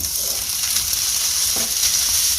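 Ground meat browning in a pan with cooked garlic and vegetables for keto spaghetti, giving a steady, close sizzle with light crackle that runs unbroken, plus a faint scrape or two.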